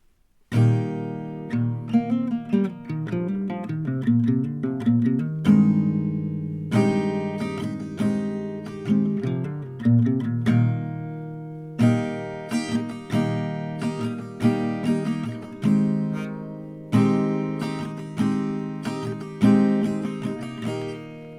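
An acoustic guitar plays a song as an easy tutorial arrangement, mixing strummed chords with picked melody in repeating rounds, clear and close with short pauses between phrases and no talking.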